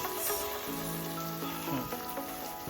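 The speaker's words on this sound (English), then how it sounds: "You now fry my egusi, guys." Egusi fries in a hot pan with a steady, close hiss and sizzle, while a faint tonal hum and a few light clatters sit beneath it.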